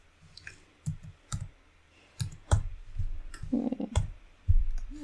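A computer mouse clicks about a dozen times at an uneven pace, each a sharp close tick, with faint soft handling sounds between some clicks.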